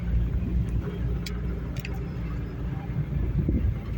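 A car rolls along a farm road past cornfields toward a sunflower field, giving a steady, close, low engine rumble and road noise that does not let up, with faint higher ticks now and then.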